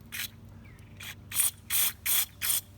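Compressed air blasts through a carburetor port on a Honda Shadow VT1100, four or five sharp hissing bursts in a steady rhythm, loud and close, with short quiet gaps between them.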